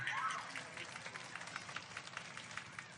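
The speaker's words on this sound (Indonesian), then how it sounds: "Tepuk tangan untuk binian" Scattered, modest applause from a sermon audience, soft and distant clapping spread through the room, with some voices faintly underneath.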